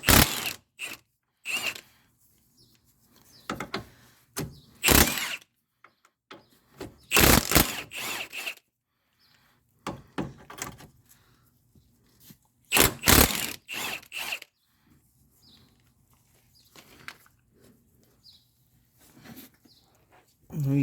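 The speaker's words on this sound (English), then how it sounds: "we're just going to take off the 2 bolts. So the 2 nuts and the 1 bolt for the lower ball joint" Ratchet wrench working the nuts and bolt off the lower ball joint of a 2005 Toyota Corolla 1.8 during front wheel bearing replacement, with repeated loud bursts of clicking and scraping metal separated by quiet pauses.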